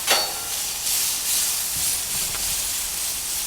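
Longaniza sausage cooking on a preheated flat-top griddle over medium-low heat, giving a steady soft sizzle and hiss that holds throughout with no talk.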